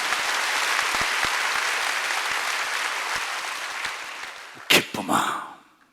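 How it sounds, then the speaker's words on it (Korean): Dense, steady applause from a church congregation fills most of the stretch, then fades out as a few brief voices break in near the end. "박수 치려면 세게 치라고."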